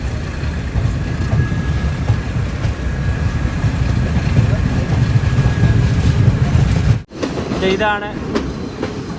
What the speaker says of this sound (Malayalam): ഗോളിൽ ഇതാ ട്രെയിൻ എടുത്തിരിക്കുകയാണ്